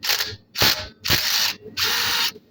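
A ratchet loosens the bolts holding a car's brake caliper, producing four loud, close bursts of rapid ratcheting clicks separated by brief pauses, with no talk.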